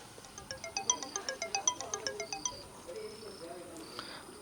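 A Moto G04 phone plays its ringtone as a quick, evenly spaced run of bright electronic beeps. The beeps sound close and fairly quiet, then fade into faint high tones and background hiss.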